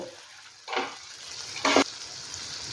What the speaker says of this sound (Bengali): চিকেনটা একবার নেড়ে দেবো। চিকেন নেড়ে দিয়েছি।